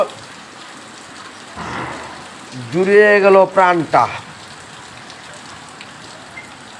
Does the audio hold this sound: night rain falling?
yes